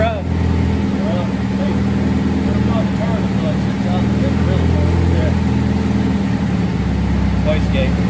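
A turbocharged Honda engine running on a dyno, a loud continuous droning engine note with faint chirps that fits wastegate flutter, while a voice talks over it.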